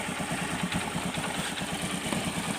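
A carbureted Honda Beat scooter engine, run short of oil, idles steadily up close with an even, rapid low chugging and a faint mechanical clatter, with no speech.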